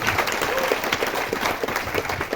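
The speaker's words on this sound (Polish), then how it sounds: "Brawa ogromne!" Loud, enthusiastic audience applause for a percussion lecturer introduced at a music workshop opening, with crowd noise and cheering mixed into the continuous clapping.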